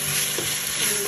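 Four small white onions with garlic salt sautéing in a pan, a steady close sizzle and frying hiss with faint stirring, no voices.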